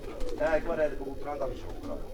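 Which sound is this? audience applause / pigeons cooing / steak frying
pigeons cooing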